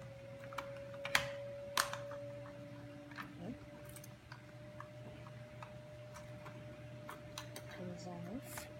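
Wooden puzzle box being taken apart by hand, with a few sharp clicks and light knocks of wood on wood standing out over a steady low hum, close and fairly quiet.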